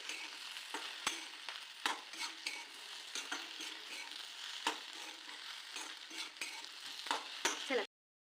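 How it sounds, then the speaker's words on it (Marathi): Okra fried with coarse crushed peanuts in a pan, stirred with repeated scraping clicks and knocks over a soft, steady sizzle, close and fairly quiet, then stopping abruptly near the end. "भेंडीसाठी आपल्याला जी शेंगदाण्याचा कूट आहे तो जाडसरच ठेवायचा आहे बारीक नाही करायचा मिक्स करून घ्यायचं"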